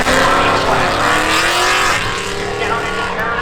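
Drag race cars launch at the stripe at Seekonk Speedway during spectator drags, a loud, continuous engine roar with rising revs and possible tire squeal, heard close and steady under an announcer's voice.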